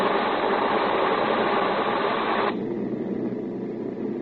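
Aircraft engines drone steadily in a radio drama, a loud, even hum that suddenly drops to a duller, quieter tone partway through and keeps running with no voices.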